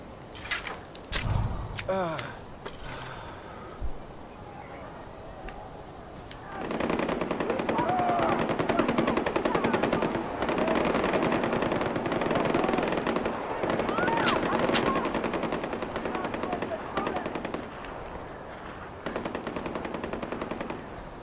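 Rapid automatic gunfire bursts in Far Cry 4, sustained rattling volleys with scattered single shots and game effects, fairly loud, broken by short pauses, with a voice talking over it early on.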